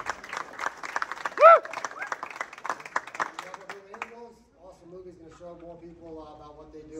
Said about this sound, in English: let's give one more round of applause for these guys for being here